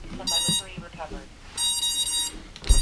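Two bursts of high-pitched electronic beeping, a short one then a longer one, sounding over a voice talking nearby.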